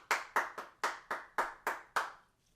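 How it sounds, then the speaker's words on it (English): A small group claps at a slow, uneven pace at an outdoor fly-fishing rod setup demonstration, about eight distinct claps that then stop. "Let's all give him a round of applause for that."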